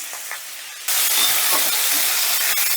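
Ginger and green chilli paste with water hitting a hot pan, a sudden loud burst of hissing sizzle that stays strong and steady after a quieter opening moment.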